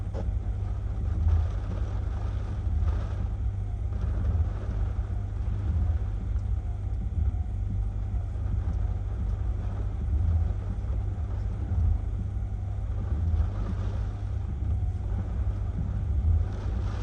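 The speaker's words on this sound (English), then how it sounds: "that's why you're seeing these really big gusts of wind and strong sustained winds too" Strong sustained hurricane wind with big gusts during Hurricane Ian in St. Petersburg, Tampa Bay, Florida, a loud continuous roar and rumble of wind buffeting the microphone for the whole stretch.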